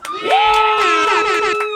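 A crowd at a live event cheers and whoops loudly, with high shouted voices rising together and holding as a sustained roar for under two seconds.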